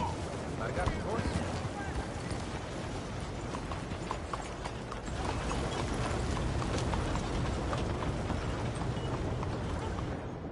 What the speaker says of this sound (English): Come on! I got the horse.